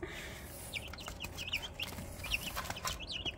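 Baby chicks clucking and chirping close by while dust bathing in a food bowl, a string of short high calls scattered over a steady farmyard background hum.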